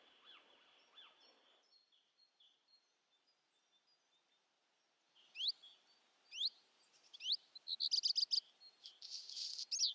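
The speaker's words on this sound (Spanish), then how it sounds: "Los pájaros anuncian la llegada de un nuevo día." Wild birds sing at first light in Aljezares. A few faint chirps come first, then a quiet pause, then louder repeated rising chirps and rapid trills that grow busier toward the end.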